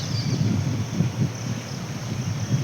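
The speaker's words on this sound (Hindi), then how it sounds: "बहुत सुंदर हवा चल रही है।" Wind blowing outdoors on a hot summer day, heard as a steady low rumble of gusts buffeting close to the microphone, loud and continuous with no voices.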